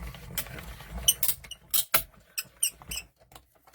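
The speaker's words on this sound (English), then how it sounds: "I love that squeak. It even squeaks like a bird when you're doing it." Small hand-cranked mini cut and emboss machine rolling a paper bird shape through its rollers, giving a run of short, sharp, bird-like squeaks in uneven bursts, close up with no talk.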